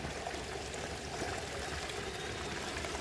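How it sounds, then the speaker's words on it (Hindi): Water from a mountain stream rushes steadily at the source of a river high in a Himalayan valley, a continuous close wash with no voices. "ये धारा का पानी"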